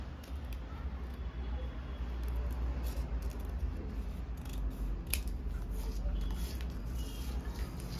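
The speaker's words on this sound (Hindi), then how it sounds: "देखिए मैंने कैंची से इसको सही कर लिया, कटिंग करते करते ही सही कर लिया" Scissors cutting kurti fabric on a tailoring table, soft repeated snips and crisp rustling clicks under a steady low background hum, close by and moderately loud.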